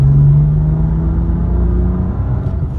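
A BMW M2 Competition cruises in comfort mode with a smooth, low engine hum and road rumble from inside the cabin, steady and fairly loud with no one speaking.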